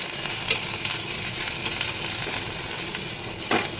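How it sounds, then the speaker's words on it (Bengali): Ginger frying in hot oil for a Bengali shukto, a steady close sizzle with light stirring scrapes throughout and a brief louder flare near the end. "আদাটা একটু ভেজে নেবো, কারণ কাঁচা গন্ধ যাতে না আসে।"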